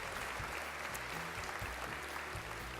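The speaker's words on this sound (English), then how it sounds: "which should really bring a louder round of applause" A crowd applauding an announced pay raise for teachers, with steady, dense clapping filling the whole stretch at moderate distance and no voices over it.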